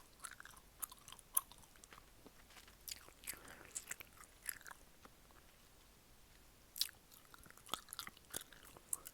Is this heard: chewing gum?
yes